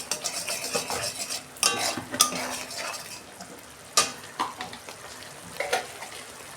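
A spice masala with turmeric, cumin and coriander powder stir-fries in a pan for a gram-flour vegetarian dish, a soft sizzle broken by repeated sharp spoon scrapes and clanks against the metal, loud and close, with no talking.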